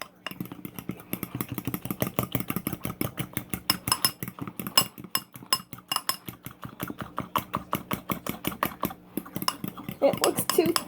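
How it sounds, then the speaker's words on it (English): A fork scraping and clinking rapidly against a mixing bowl while breaking up flour lumps in gluten-free cake batter, a steady fast rhythm of close, busy metallic taps running throughout. "I'm going to get a fork so I can break down these flour bowls that's in here."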